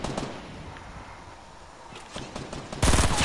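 Gunfire from a mounted gun in a video game: rapid cracking shots, faint at first and building into a loud sustained burst near the end, with little talk.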